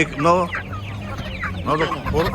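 Chickens, including Japanese breed hens, cluck close by in several short bursts at a poultry market, with a low murmur of other birds and faint activity in between.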